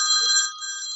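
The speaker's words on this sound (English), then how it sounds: "It's my afternoon for getting phone calls out of the blue." A telephone rings with a sustained electronic bell-like trill, steady and fairly loud, a single burst with a slight dip midway and no talking.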